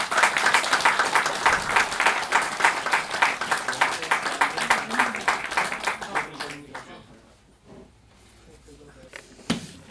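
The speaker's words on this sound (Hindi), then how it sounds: "वो डॉक्टर जोशी का स्वागत करें और प्लीज़ तालियां।" An audience at a memorial trust anniversary event claps in dense, lively applause for several seconds, then it dies away into quiet room noise with a few stray claps.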